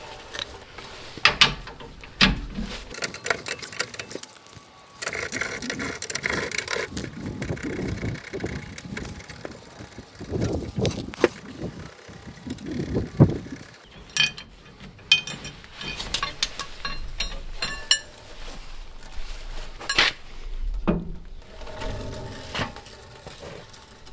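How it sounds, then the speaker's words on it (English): A 22mm socket on a breaker bar loosens nuts during a shackle hanger install on a Toyota Tacoma, with irregular metallic clicks, ratcheting and clanks scattered over half a minute of close handwork. "I'm going to be using a 22mm socket and a breaker bar to get these off"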